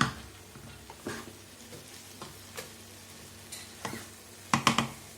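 Noodles tossed with spice in a pan give off soft frying sizzle under a string of light scraping and clinking stirs, which grow busier toward the end.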